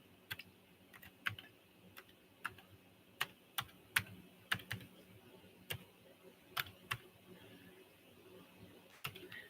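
Irregular, crisp keystrokes from typing on a computer keyboard, close and fairly clear over a low room murmur, with sharp isolated clicks and short bursts spread over several seconds.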